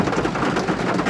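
Heavy rain pours steadily in a brief, dense wash of noise with no distinct events and no talk.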